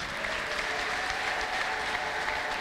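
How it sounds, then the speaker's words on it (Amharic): A church congregation applauds during a worship service, producing dense, continuous clapping from many hands that holds steady throughout at moderate loudness. "ከዚህ በላይ አጨብጭቡ እስቲ።"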